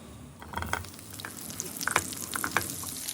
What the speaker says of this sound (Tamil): இந்த மாதிரி அரைச்ச பின்ன கடாயில் ஷாலோ ஃப்ரை பண்ணிங்கோ